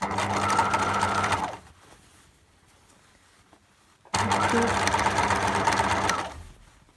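Sewing machine topstitching along each side of a fabric face mask, two loud sustained runs of stitching, close up, with a short quiet gap between them.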